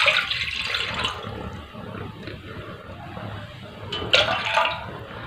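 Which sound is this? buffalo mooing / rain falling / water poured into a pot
water poured into a pot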